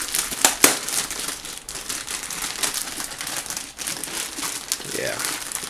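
Crinkly plastic packaging around an Amazon Basics medium camera bag rustles and crackles while being handled and opened, in irregular bursts with a few sharper snaps.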